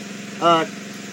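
A small 5 PK water pump engine drives sprinkler irrigation on a shallot field, giving a steady, even hum throughout, with a brief voice rising over it midway.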